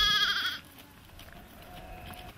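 A goat or young kid gives one short, wavering bleat at the start, loud and close, followed by quiet outdoor farmyard ambience in a Himba village.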